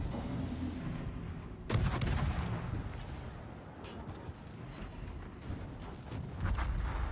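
A warship in World of Warships is destroyed amid a continuous rumble of heavy naval gunfire and explosions, with sharp booming blasts rising out of the dense, steady din.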